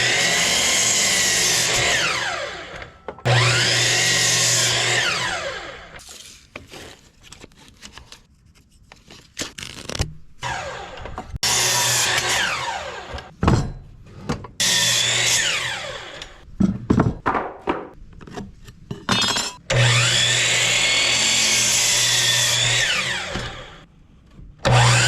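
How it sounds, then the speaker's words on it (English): A Harbor Freight Hercules miter saw cuts wood boards in several long, loud whining passes, each spinning up, biting through the board and winding down, with quieter handling clatter between cuts. "Harbor Freight Hercules miter saw and start chopping"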